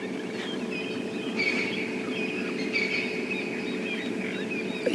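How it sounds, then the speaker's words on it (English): At sunrise on a safari drive, wild birds including francolins and crested barbets call faintly and intermittently over a steady background hum, thin chirps rising at a distance. "you can hear some francolins, you can hear some crested barbets"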